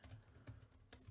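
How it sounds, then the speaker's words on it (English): Steady typing on a computer keyboard, quiet and close, with irregular key clicks and a few louder taps, no voices. "I'm typing."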